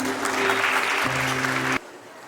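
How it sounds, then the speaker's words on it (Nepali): Applause from wedding guests at a Nepali church wedding, a dense, lively burst of clapping that runs steadily for under two seconds and then cuts off abruptly, leaving only faint room noise. "हामी उहाँहरूलाई ताली बजाएर हामी धन्यवाद दिन चाहन्छौँ"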